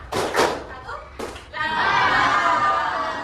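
Students in a classroom clap in a counted pattern, a few sharp claps early on, then a denser burst of clapping that carries through to the end, with voices mixed in.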